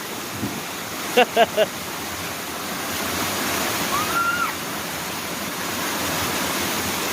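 A small waterfall pours steadily in a wet, slippery outdoor spot, making a constant broadband rush of falling water, with a few brief clicks and a faint whistle-like tone partway through.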